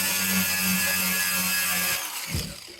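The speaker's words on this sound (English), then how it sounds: "Let's take a grinder to it." An angle grinder cuts into a brass cooling reservoir, running as a sustained buzzing drone for about two seconds before it stops and winds down, heard close with no talking.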